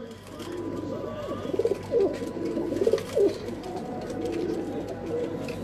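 Pigeons coo on a rooftop loft in Pakistan, giving several soft throaty rolling calls in close succession over a quiet background.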